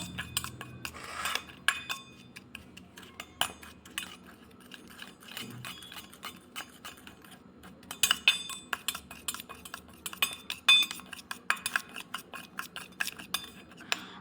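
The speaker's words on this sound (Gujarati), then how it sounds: "હવે આપણે મસાલાને મિક્સ કરી દઈશું" Salt and red chili powder are mixed into a spice blend with a spoon in a small metal bowl, making light, irregular clinks and scrapes that come close together, some louder than others, with no talking.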